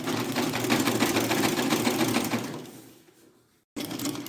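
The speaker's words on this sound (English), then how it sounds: "Now I will now take it to the machine and sew it round." Sewing machine stitching a ruffle bonnet hums with a fast, steady mechanical whir and needle clatter, close and loud, winding down to a stop, then briefly starting again.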